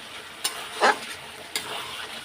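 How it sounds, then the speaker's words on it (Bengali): Tomatoes and spices frying in a pan, a soft steady sizzle broken by a few brief scraping stirs of the spoon, close and fairly quiet with no talking. "এবার কষিয়ে নেব"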